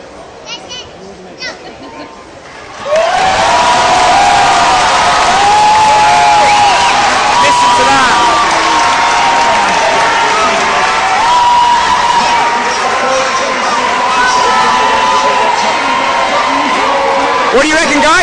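A huge crowd at the London 2012 Paralympics aquatics centre roars and cheers for Paralympics GB swimmers, bursting in loud after a quieter start with shrill whoops and shouts sustained at full volume.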